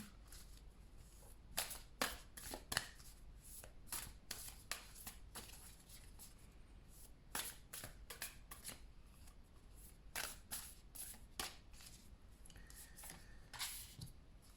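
Oracle cards being shuffled by hand, repeated crisp riffling bursts and soft rubbing in an irregular rhythm for several seconds, close and fairly quiet, no talk.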